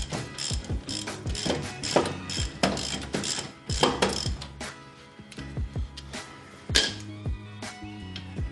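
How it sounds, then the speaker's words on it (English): A ratchet wrench loosens the bolt on a coilover fork of a lowered EM1 Civic, repeated quick clicking strokes in irregular bursts, close and clear with no talking. "So I'll loosen the bolt on the fork."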